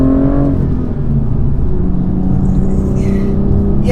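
A manual-transmission car's engine drones steadily from inside the cabin, loud and close, with a slight dip in pitch early on as gears change, then a constant hum.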